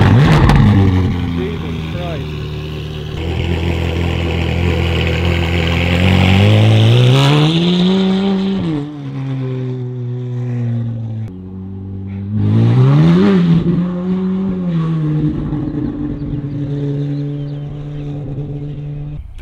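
A Ferrari 458 engine revs loudly through its exhaust in rising and falling sweeps, two main bursts separated by a dip, with people talking over it.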